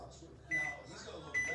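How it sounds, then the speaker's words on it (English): A home microwave running on a softening setting to soften recipe ingredients gives a low, steady hum, with two short electronic beeps near the middle and end. "So I'm going to soften this in my microwave."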